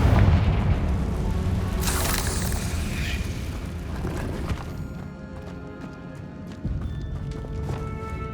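The Confringo spell in the Hogwarts Legacy video game bursts with a deep rumbling boom and crackling blast amid game sounds, followed by a dwindling, ringing tail, all loud and up close.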